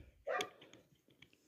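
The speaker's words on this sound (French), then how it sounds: "les chiens dehors qui gueulent, qui veulent rentrer" A single sharp dog bark from dogs outside wanting to come in, loud and fairly close, followed by faint softer yips and background noise.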